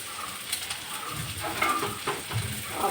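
Prawns frying in a pan, a moderate continuous sizzle with intermittent scraping and stirring clicks, close and alone without voices.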